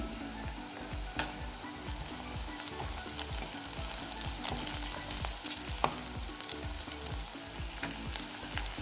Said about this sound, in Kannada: ಈಗ ಕರಿಬೇವು ಸೇರಿಸ್ತಾ ಇದ್ದೀನಿ.